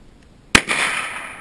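A single sharp gunshot from a 9mm JRC carbine at outdoor target practice, one loud crack with a brief echoing tail, heard alone after quiet.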